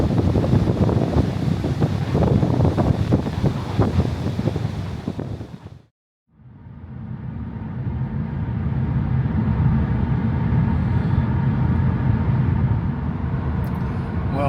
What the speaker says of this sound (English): A bit breezy down here, actually.